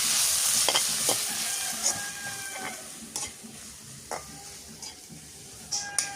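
Ginger and garlic fry and sizzle steadily in a pan for a spicy fried chicken dish, with the clatter of a spatula stirring now and then, close and fairly loud throughout with no talk.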